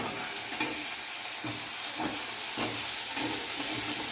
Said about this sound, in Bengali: কিন্তু আলুগুলোকে আমাকে ভাজতে হবে।